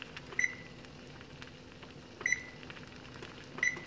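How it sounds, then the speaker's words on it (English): A kitchen timer being set while fiddleheads boil, three short, faint electronic beeps spaced apart over quiet background noise. "I'm gonna set my timer."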